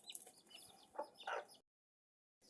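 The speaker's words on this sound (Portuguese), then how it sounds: "E aqui também tem umas galinhas." Chickens cluck a few times close by, with short bursts of fowl calls, then a gap of silence before a faint resumption at the end.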